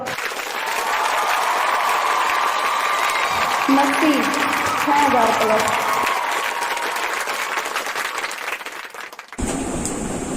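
Loud, sustained applause from a large studio audience, clapping continuously under a voice talking over it, with a brief electronic tone near the end.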